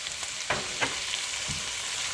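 Finely chopped green chili and tomato dropping into a sizzling pan for anda bhurji, a low continuous fry with a few sharp crackling bursts, close and alone.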